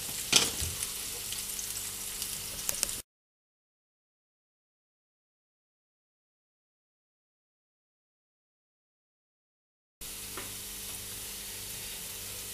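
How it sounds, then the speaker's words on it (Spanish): Chopped onion with a pinch of salt sizzling in a frying pan while being stirred, a dense continuous frying hiss with a few scraping knocks, interrupted by a long stretch of total silence before the sizzle returns. "ahora añadimos la cebolla y una pizquita de sal. Y lo moveremos."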